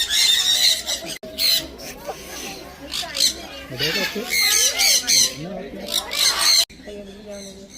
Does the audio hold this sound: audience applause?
no